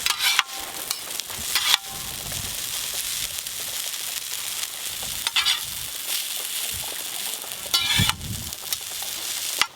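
Chow mein frying in a pan gives off a constant close sizzle, broken by scraping, clattering stirring strokes at irregular intervals, with no one speaking.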